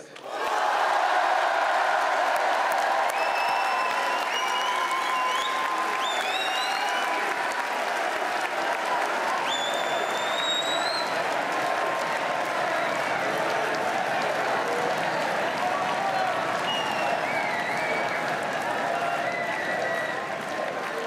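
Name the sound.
crowd applauding at a political rally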